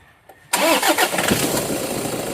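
A car engine cranks and catches after alternator pulley and carbon brush replacement, then settles into a steady idle, close by with no talking.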